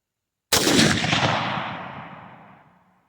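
A single loud gunshot from a BCA bolt-action rifle upper fired with factory ammo cracks sharply out of silence, then its echo decays over about two and a half seconds.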